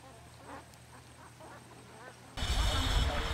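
Ducks in a rice field on Bali quack several times at low to moderate level against faint outdoor ambience, then a louder broadband burst of noise takes over near the end.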